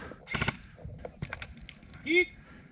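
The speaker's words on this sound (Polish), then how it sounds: "O, z daleka snajper. Pojedynczy strzał." A single distant airsoft sniper shot during a Sunday airsoft game in Sulmin, heard as a sharp, brief crack with a few fainter clicks and snaps around it in a quiet outdoor setting.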